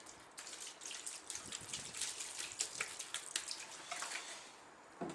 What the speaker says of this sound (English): I'm just going to go ahead and probably add a bit more water to that.